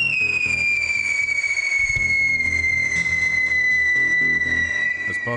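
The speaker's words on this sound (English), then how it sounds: "This causes the tube to vibrate and you get the whistle sound." A whistling firework shrieks loudly and continuously at a high pitch, sliding slightly downward over several seconds above a rumbling background.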